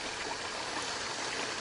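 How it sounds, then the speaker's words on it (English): Clear water pouring steadily out of a lake water filter pipe at about four gallons a minute, a constant close hissing trickle with no pauses. "right now they're putting out clear water"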